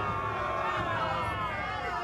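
A crowd reacting in the revolutionary France game We. The Revolution, a steady dense murmur of many voices, unbroken and at moderate level throughout.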